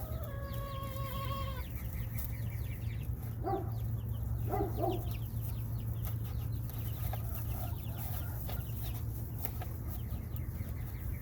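Young chicks in a brooder give high, thin peeping chirps in quick bursts early on, then sparser calls over a steady low hum, with scattered clucks from older birds in the background.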